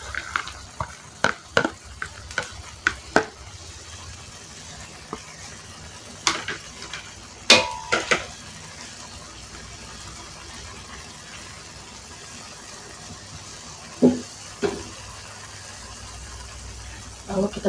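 Enoki mushrooms stirred and fried in a pan: scattered clinks and scrapes of a utensil over a low, steady sizzle, with occasional louder knocks.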